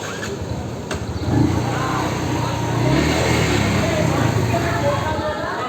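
A motorcycle at a bike-training session in Uttara, Dhaka, starts and runs with a steady, fairly loud engine roar that swells slightly as it revs, close by with no one speaking.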